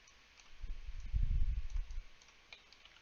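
Soft computer mouse clicks in 3D modeling software tick faintly and sparsely, a few light clicks over a low rumbling desk handling noise, close by with no speech.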